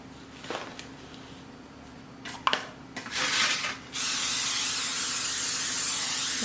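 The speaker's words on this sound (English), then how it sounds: "Spray my pan real good with the butter spray" Butter spray hisses from a can onto a cooking pan in a home kitchen, short bursts first, then a long, loud, steady spray that runs to the end.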